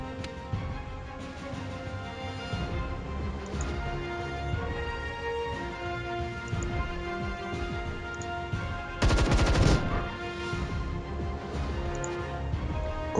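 Video game gunfire in the tactical game Templar Battleforce, a continuous rattle of shots under game music and effects, with one louder burst partway through.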